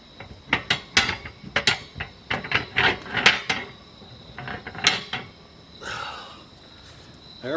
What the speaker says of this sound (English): Well, I think we need to drop this grate down.